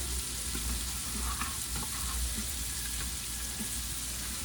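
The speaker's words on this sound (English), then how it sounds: "I'm adding the garlic and the onions" Garlic and onions fry in a pot for a one-pot chicken and orzo dish, giving a steady, close, crackling sizzle with faint stirring movements and no talk.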